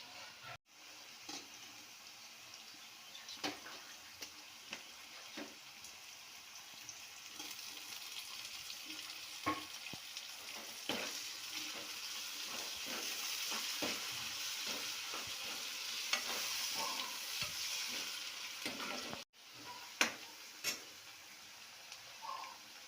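Ingredients for lemon rice chitranna sizzle in a pan while a spoon scrapes and stirs them, with steady frying and scattered close clicks and taps throughout.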